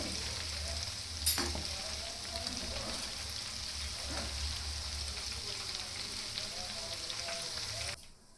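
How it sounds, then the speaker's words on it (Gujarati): Dough balls made from leftover rotis deep-fry in hot oil until crisp, a steady bubbling sizzle with occasional pops and light stirring, ending abruptly. "બોલ્સને આપણે તેલમાં એડ કરી દીધા છે અને ક્રિસ્પી થાય ત્યાં સુધી આપણે તળી લેશું"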